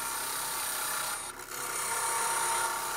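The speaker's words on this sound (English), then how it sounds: "I use a spindle roughing gouge to level the piece" A spindle roughing gouge cuts a light, soft wood blank on a lathe, producing a continuous close rasping, scraping hiss that dips briefly midway before resuming steady.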